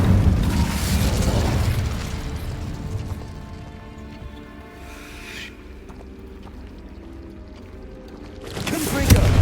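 Incendio fire spell cast in Hogwarts Legacy, heard as a loud fiery burst at the start and another at the end, with a quieter, tonal stretch in between.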